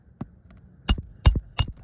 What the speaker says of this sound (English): Hammer it home.